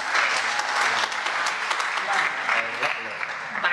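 Audience applause at a wayang orang performance in Solo, dense sustained clapping from a theatre crowd filling the whole stretch, with voices mixed in.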